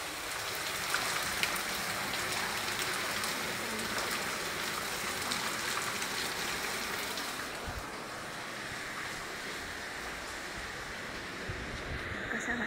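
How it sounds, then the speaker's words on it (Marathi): Morning rain falling outside makes a steady, dense hiss with no break, easing slightly in the second half. "कसा वाटला पाऊस आमच्या इथे नक्की सांगा"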